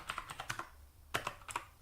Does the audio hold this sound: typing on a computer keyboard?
yes